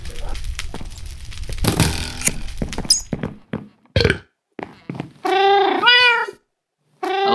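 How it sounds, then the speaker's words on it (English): Cat meows from the video game Minecraft, a string of drawn-out mewing calls with short gaps, following a stretch of noisy game sounds and brief clicks; loud and close with no speech. "It's a third cat."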